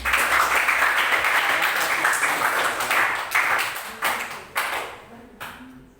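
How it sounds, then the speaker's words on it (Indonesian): A biology class claps together, a full burst of applause that thins out over several seconds into a few scattered, separate claps near the end. "Ya, tepuk tangan."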